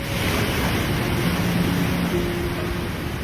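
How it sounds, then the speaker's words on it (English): Ocean surf surging and crashing through rock spires off Pitcairn Island's coast, a steady broad roar of breaking water with constant wind-like hiss and no pauses. "you can see the waves pile up and come crashing through the spires"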